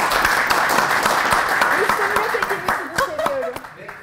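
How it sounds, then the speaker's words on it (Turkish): A studio audience claps in a lively burst that thins out over a few seconds, the claps growing sparse as a voice talks over the tail. "Arkadaşlar bir alkış alabilir miyim hele ya?"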